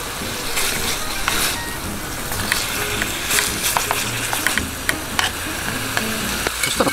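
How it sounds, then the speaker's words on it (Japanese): Yakisoba noodles and green onion frying in a pan at a campsite, a loud continuous sizzle broken by frequent scraping and clattering stirs. "ここに焼きそばの麺を投入します。"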